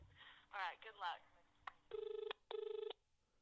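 A telephone gives two short bursts of its double ring, loud and close, right after a moment of speech in a busy room.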